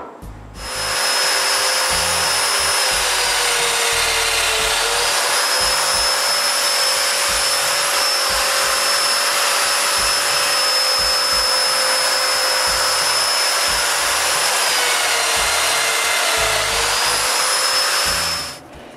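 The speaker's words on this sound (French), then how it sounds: "puis je perce les mortaises" Domino joiner plunging mortises into wooden boards being prepared for glue-up, a loud, steady high-pitched motor whine running almost nonstop for the whole stretch with small pitch dips during cuts, close up and with no talk.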